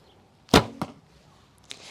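A heavy arrow shot from a Paragon Raider bow at 38 lbs and 28 inches draw: one sharp, loud release thump with a quick string slap, then a faint distant impact a second later.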